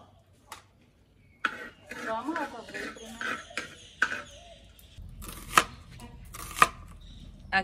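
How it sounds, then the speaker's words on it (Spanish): A knife chops onion for rice on a board in a sunny kitchen, giving irregular sharp cutting taps and crisp slices in short bursts, while people talk over and between the strokes. "Aquí estás cortando cebolla para poner el arroz"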